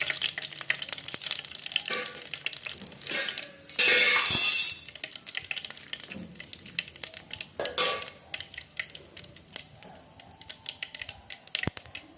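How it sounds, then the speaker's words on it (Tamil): Mustard seeds dropped into hot oil in a pot, crackling and sizzling with a louder burst of spatter, plus light clinks and stirring scrapes from utensils, close and fairly quiet, no talking. "எண்ணெய் காஞ்சிச்சு, கடுகு போட்டுக்கலாம்."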